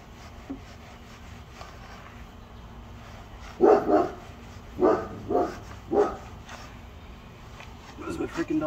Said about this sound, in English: There's my freaking dog again.